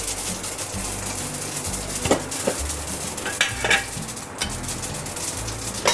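Fenugreek and mustard seeds crackle in hot oil on low heat for a Gujarati kadhi, a steady sizzle with sharp pops and clinks of a spoon stirring in the pan, no talking.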